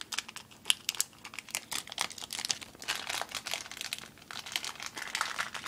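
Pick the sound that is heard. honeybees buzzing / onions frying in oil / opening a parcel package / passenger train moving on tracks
opening a parcel package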